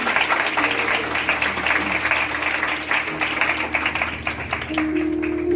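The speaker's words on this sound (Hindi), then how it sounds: "आइए एक बार फिर उसके जलाल के लिए जोरदार ताली।" A church congregation at a Palm Sunday service gives loud, sustained applause. Dense clapping fills the room, with crowd murmur underneath and a faint tonal hum near the end.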